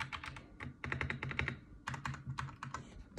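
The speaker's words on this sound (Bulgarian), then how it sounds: "това ни е клавиатурата." Computer keyboard in a home desk setup typed in quick uneven bursts of sharp key clicks, close and clear, with short pauses between runs and no talking.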